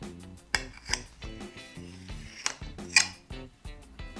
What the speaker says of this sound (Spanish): Lo primero de todo es cortar la tortilla en 4 trozos para que sea más manejable